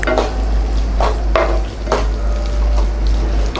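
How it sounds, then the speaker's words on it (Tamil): Tomato rice masala sautéing in oil in a pan for Nellore-style tomato rice, with a steady close sizzle and a few distinct scraping stirs of a spoon against the pan, no talking. "இதே மாதிரி நல்லா எண்ணெய் மேலே வர வரைக்கும் வதக்கிக்கலாம்."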